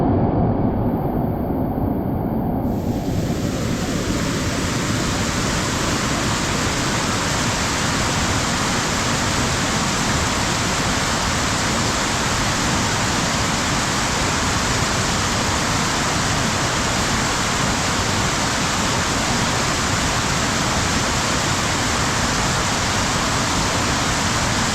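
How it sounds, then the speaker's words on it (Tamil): Water pours at Devkund waterfalls in Maharashtra, a loud, dense, unbroken roar of rushing flow that swells in fully after the first couple of seconds and holds steady throughout. "அங்கே பாருங்கள் தண்ணி ஃப்ளோ ஆகிட்டு இருக்கா"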